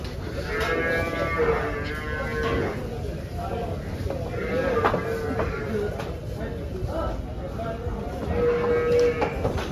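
Water buffalo moo repeatedly amid a busy livestock market din in Dhule, with people talking all around and low calls rising every few seconds.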